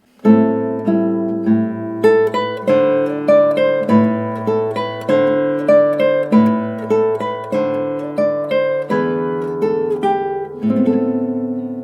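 Fingerpicked guitar plays the slow closing coda of a song from Black Orpheus, single plucked notes and chords ringing out one after another in a gentle, steady rhythm.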